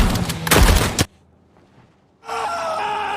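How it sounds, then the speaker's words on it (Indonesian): A burst of rapid, loud gunfire in a film scene, a dense volley lasting about a second, then near silence before tense score and noise swell back in. "anak buah Deacon terus melepaskan tembakan."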